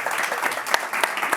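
Audience applause after a contest winner is announced at a talk event, a short dense patter of many hands with a few sharper individual claps standing out, moderately loud and without speech.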